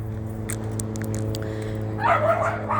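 Dogs bark outdoors during a walk: a short, fairly distant burst of barking and yips rises near the end over a steady low hum of background noise, with no talking.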